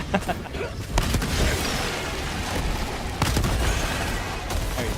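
Interrupter shotgun firing in Helldivers 2, with heavy booming shots and explosive bursts spaced over a few seconds, a couple of blasts standing out above a dense roar of battle noise.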